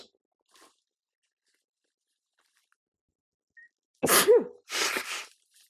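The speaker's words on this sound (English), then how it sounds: "I'm going to sneeze." After a few seconds of near silence, one loud, close sneeze bursts out, followed by a breathy exhale or sniff.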